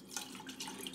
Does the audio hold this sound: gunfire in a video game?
no